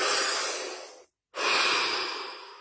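A single long, deep breath drawn in and then let out, a soft airy inhale followed by a short pause and a steady full exhale, close and alone in a quiet room.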